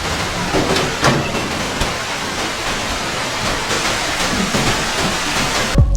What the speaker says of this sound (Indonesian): Dan di tengah hujan yang deras, Isa masih berusaha bertahan hidup